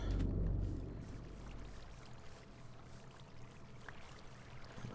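Water from a bucket poured out in Minecraft: a brief gush at the start, then a steady soft trickling flow that continues quietly throughout.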